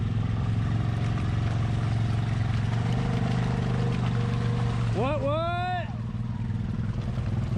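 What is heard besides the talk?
ATV engine revving through swamp mud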